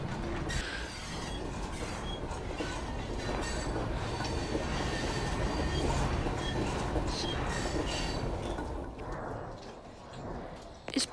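Rail yard simulator game audio with a continuous rumbling, clattering train sound of steady loudness throughout, with chuffing-like texture and a brief sharp noise at the end.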